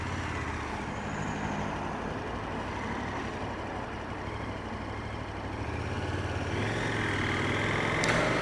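A KTM 1290 Super Adventure S motorcycle in sport mode ridden slowly along a country road, its engine a steady close drone with wind rush, rising slightly near the end.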